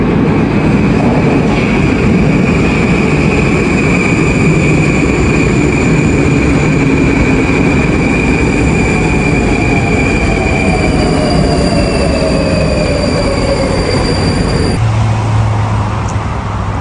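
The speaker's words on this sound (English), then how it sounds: "That's the train coming." A Moscow metro train arriving at a station in winter rumbles loudly and steadily with wheels squealing on the rails, before the noise drops off abruptly near the end.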